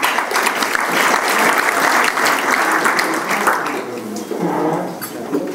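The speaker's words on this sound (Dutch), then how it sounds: "een groot applaus voor Peter Kunsli." A lecture audience applauds a keynote speaker in Loppersum, giving strong, close, continuous clapping that holds steady and then tapers slightly toward the end.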